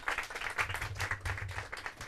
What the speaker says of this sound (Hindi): आप सब उनका तालियों के साथ स्वागत करें।